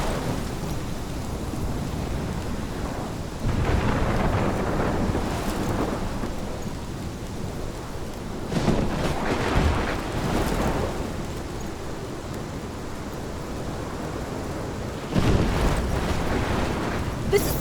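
A thunderstorm in the video game Life is Strange: steady heavy rain hisses throughout while several deep thunder rumbles and cracks swell and fade at intervals.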